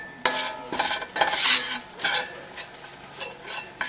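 A spoon stirs flour cooking in a frying pan for breaded pork chops, scraping in a steady series of close, distinct strokes with a soft sizzle underneath.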